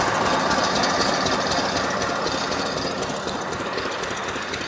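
A small oil engine driving a water pump runs steadily nearby with a dense, rapid chugging rumble, loud and continuous throughout.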